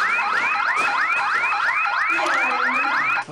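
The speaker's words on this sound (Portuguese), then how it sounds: "Que é este alarme? É dos alarmes da casa?" A house alarm blares in a loud, rapidly repeating rising whoop, close and continuous, cutting off abruptly at the end.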